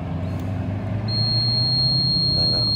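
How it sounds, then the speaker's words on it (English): A fishing bite alarm used for pike fishing sounds a steady, continuous electronic tone that starts about a second in and holds to the end over low background rumble. "Again, you get another audible alarm."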